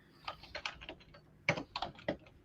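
Typing on a computer keyboard: short bursts of close, crisp key clicks in quick irregular clusters, with a brief pause between runs, heard alone.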